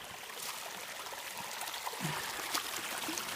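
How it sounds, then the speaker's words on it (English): Water runs down along the Starr trail, a steady close trickling and gurgling flow with small splashes, heard alone without talking. "Look at this water coming down"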